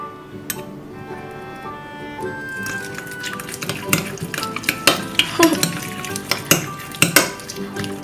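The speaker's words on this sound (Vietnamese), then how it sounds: "Khuấy như thế này thôi mà cũng thích quá trời luôn" Homemade Christmas slime is stirred in a container, giving wet squelching and clicking strokes that start sparse and grow louder and more rhythmic, close by with no talk.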